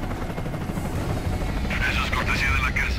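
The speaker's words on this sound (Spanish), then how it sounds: "Mira cómo toca el helicóptero." A helicopter in the video game Gears of War keeps up a steady rotor drone under loud game audio and a voice speaking, with bursts of gunfire near the end.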